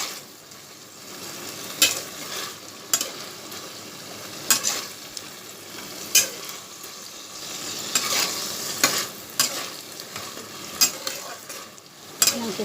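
Shapla water lily stems fry in a pan with radhuni and torn green chili, giving a constant soft sizzle broken by irregular sharp scrapes and clinks as a utensil stirs the mixture.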